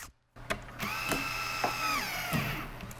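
Power drill driving a screw into a veneer cabinet panel during cabinet box building, a steady whirring mechanical drive with ratcheting clicks lasting a few seconds after a brief pause, close and fairly loud.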